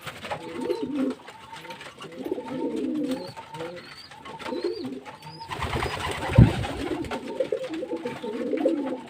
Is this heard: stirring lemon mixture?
no